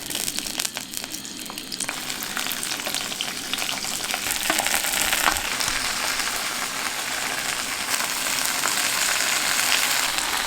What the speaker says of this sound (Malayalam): ആദ്യം നമുക്ക് എണ്ണ ഒഴിച്ച് വെണ്ടയ്ക്കയും പച്ചമുളകും കൂടെ വറുത്തെടുക്കാം.